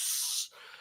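A voice imitates a spray with the mouth, a short loud hissing burst that cuts off abruptly, followed by faint breathy residue.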